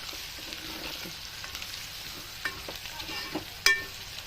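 A little white sesame seed spluttering in hot oil with cumin and mustard seeds for rava upma: a soft, constant crackling sizzle with scattered pops and one sharper crack near the end.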